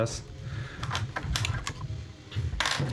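Parts of a 3D printed airsoft rifle are handled as the bolt and spring go in: close, scattered plastic clicks and rattling knocks in short irregular bursts, with a voice talking lightly underneath.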